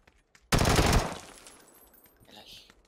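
Gunfire from a battle royale video game, one sharp loud burst of rapid automatic fire lasting about half a second, then fading echoes and faint scattered sounds.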